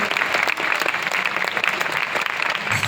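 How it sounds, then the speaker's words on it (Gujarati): Enthusiastic audience applause at a Swaminarayan temple gathering in Surat, a dense, continuous clatter of many hands clapping together, loud and sustained throughout. "એકવાર જોરદાર તાળીઓનો ગડગડાટ કરીએ"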